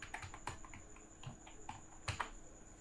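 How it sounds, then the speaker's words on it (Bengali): Computer keyboard keys clatter in quick irregular bursts as a captcha is typed into an online form, close and fairly quiet with no one speaking. "এরপর নিচেই যে ক্যাপচা আছে সেই ক্যাপচাটা টাইপ করতে হবে"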